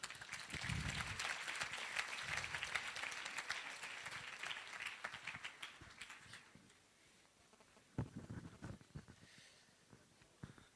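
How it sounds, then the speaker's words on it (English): An audience at a medical students' closing ceremony in Rwanda claps as a speaker walks onto the stage, a dense, sustained round of applause that thins out, then a few scattered claps and murmurs return near the end. "please give him a big round of applause"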